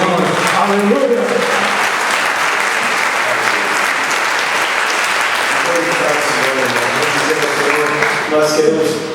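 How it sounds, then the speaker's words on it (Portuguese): Church congregation clapping together in praise, a steady, dense round of applause lasting several seconds with voices faintly singing or speaking underneath. "Se você crê, bate palmas para o Senhor"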